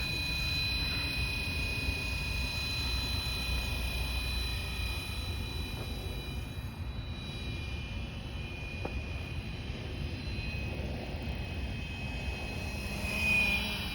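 Flywing FW450L RC helicopter making quick passes in ADI mode, its steady rotor and motor whine holding near-constant and fairly loud across the stretch, rising slightly as it sweeps close near the end.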